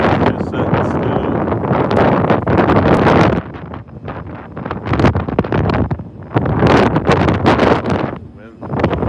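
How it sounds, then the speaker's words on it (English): Wind gusting outdoors aboard a towboat pushing barges southbound, a steady broadband rush buffeting the microphone, dipping briefly mid-clip before swelling again, with faint talk mixed in. "Wind's blowing."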